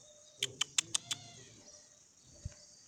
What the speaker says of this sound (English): Wanted to catch the little kitten.